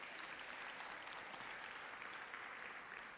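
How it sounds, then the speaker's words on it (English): Steady audience applause at a conference closing ceremony, a dense even patter of many hands clapping without pause for a few seconds, moderately distant and faint. "Please give him a warm round of applause."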